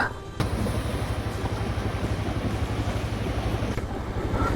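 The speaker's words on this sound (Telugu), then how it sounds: "ఈ వాటర్లోంచి బండి తీసుకుని వెళ్ళాలంట" A motorbike rides through a stream on a forest route to the Pittalaborra (Tarabhu) waterfall, with a steady, loud rush of water and rumble filling the clip before cutting off near the end.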